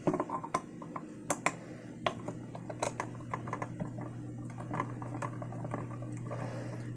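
Screws being removed from an external SSD/HDD drive enclosure: faint, scattered close clicks and small taps over a quiet steady hum, with no talking.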